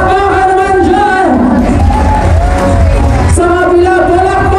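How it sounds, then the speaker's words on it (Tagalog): Wedding reception guests cheering, shouting and whooping loudly in a close, continuous crowd roar, with mixed voices throughout. "Palakpakan naman dyan na may kasamang hiyawan"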